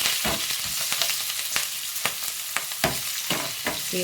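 Green chillies and dried red chillies fry in hot oil, giving a steady close sizzle with repeated sharp scraping taps of a ladle stirring the pan.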